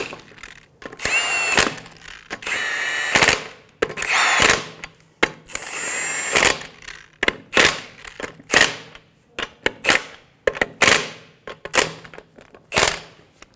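Lug nuts on the front wheel of a 2003-2008 Honda Pilot are snugged down with a power tool in sharp, rapid rattling bursts, loud and close, separated by short gaps and tapering into quicker, lighter taps.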